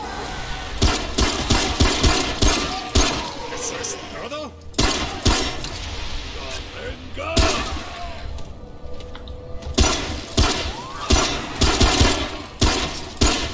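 A gun in the video game Remnant fires in rapid, repeated bursts, loud and close, with short pauses between volleys and a voice talking underneath.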